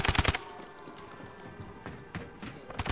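A quick burst of automatic gunfire from Call of Duty: Modern Warfare opens the clip, followed by scattered softer shots and game clatter. A few more shots land near the end.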